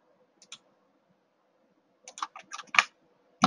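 Computer keyboard typing while drawing a kitchen in SketchUp: a couple of isolated key clicks, a pause, then a quick burst of close keystrokes.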